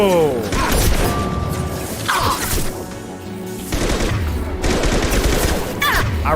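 Gunfire in the video game Mass Effect 2, loud clustered bursts of shots and impacts crashing in waves, mixed with a voice talking over the action.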